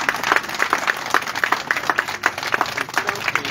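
Crowd applause for the 2022 mayorales at the San Juan Bautista fiesta in Végueta, Huaura, a dense steady clapping of many hands lasting throughout, fairly close and even in level.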